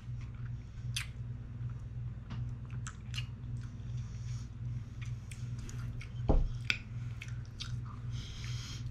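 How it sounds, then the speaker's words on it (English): Someone chewing a crunchy Little Debbie ice cream bar with caramel, chocolate and toasted rice pieces, with quiet close-up intermittent crunches and wet mouth sounds, breathing between bites and one louder bump near the end. "I definitely get a crunch."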